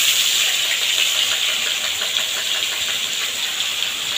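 Onion, ginger and garlic paste goes into hot oil with whole spices, including cloves, and crackles with a close, loud, continuous hissing sizzle in a home kitchen, with no talking.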